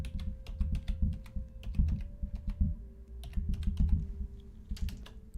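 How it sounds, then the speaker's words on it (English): Brisk, irregular keystrokes on a computer keyboard, close and crisp, come in short runs over a low steady hum and a faint sustained tone, with no talking. "I'll type it into the chat."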